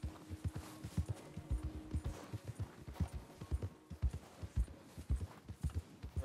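Horse hooves clip-clop steadily in the video game Red Dead Redemption 2, an even walking rhythm of close, clear hoofbeats over a low outdoor ambience, with no talk.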